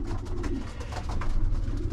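Racing pigeons in a breeding loft with newly hatched young coo steadily, a low throaty murmur running throughout, fairly close, with no talking.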